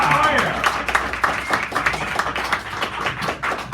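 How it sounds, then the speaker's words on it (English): Hand claps at a poetry reading in a San Francisco café, dense and irregular through the whole stretch, with voices and crowd noise mixed in underneath. "Clara Sue, just give her a nice round of applause right now."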